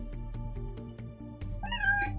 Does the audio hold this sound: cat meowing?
yes